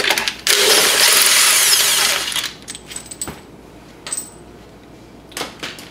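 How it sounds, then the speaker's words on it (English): An impact wrench backs out the secondary clutch bolt on a Wildcat Sport CVT, one loud buzzing burst of about two seconds followed by tool clinks and small metallic knocks nearby. "I just use an impact to back it out"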